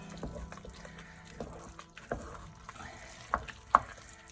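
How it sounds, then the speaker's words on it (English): A spoon stirs chana biryani in a pot, giving soft scraping and wet rustling strokes with a few louder knocks against the pot, quiet and close, over a faint background hum. "So just stirring that in."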